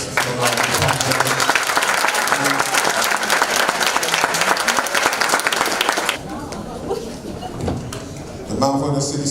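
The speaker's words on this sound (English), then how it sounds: "Another round of applause" A crowd applauds at a Mandela Zollicoffer High School graduation ceremony: dense, sustained clapping for about six seconds, then it fades into quieter room sound with voices.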